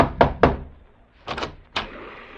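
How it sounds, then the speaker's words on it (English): Two sharp raps on a wooden door, then a pause and a further pair of knocks with a final thud, close and clear with no talk, heard in a radio drama scene aboard a ship anchored outside the harbor of Bangkok. "rapped on the door"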